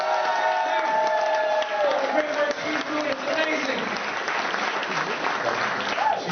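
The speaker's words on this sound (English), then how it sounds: "I've got a big round of applause for local folk hero Sandra Battolini" A big round of applause for local folk hero Sandra Battolini at a comedy awards show, loud dense clapping and crowd cheering that sustains steadily throughout, with voices mixed into the noise.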